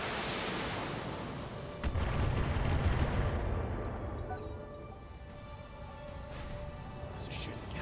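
Heavy mech weapons fire in the BattleTech urban warfare game: a sharp blast near two seconds followed by rumbling, noisy bursts and a trailing wash under faint background hum.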